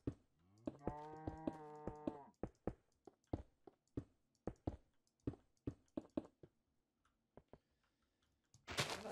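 Cattle mooing in the Minecraft video game, a long harmonic moo at the start followed by a rapid series of sharp keyboard clicks and taps, with a brief burst of noise at the very end.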